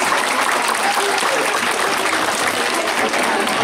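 A crowd at a gendarmerie canine unit demonstration applauds the police dog Iker, a dense, continuous wash of clapping from many people, loud and sustained throughout with no clear speech over it.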